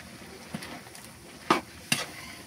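Bamboo shoots frying in a pan and being stirred, with a soft background sizzle broken by a few sharp scraping clatters of the utensil against the pan.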